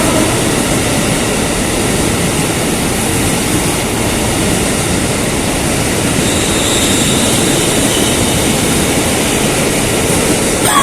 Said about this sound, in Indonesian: kereta biasa teman ya.